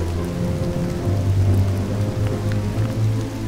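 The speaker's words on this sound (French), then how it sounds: "ce n'est pas une petite pluie qui va gâcher cette belle journée" Steady rain patters continuously over a low, constant hum, with no voices.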